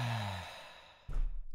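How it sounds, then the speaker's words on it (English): A slow exhale during resonance breathing trails off over about a second, then a short, breathy sigh follows. "And exhale."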